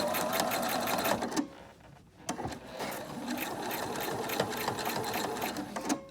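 A sewing machine stitches bias tape onto fabric for a homemade dust mask, running in quick close bursts with a brief pause partway through.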